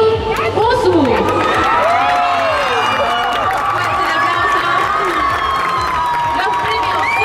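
A large crowd at the Anilive! Next 2013 anime convention cheers loudly and continuously for the cosplay contest winners, with high-pitched shouts, whoops and scattered clapping blending into a dense, unbroken roar.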